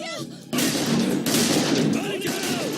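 Rapid bursts of gunfire crackle close and loud in a dense volley, with shouting voices in Hindi mixed in among the shots, from a dubbed Hollywood movie action scene.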